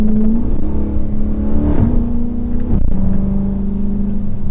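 A Dodge Scat Pack 392 holds a loud, steady engine drone while driving. Its pitch shifts and climbs slightly a couple of times as the revs change, close and continuous.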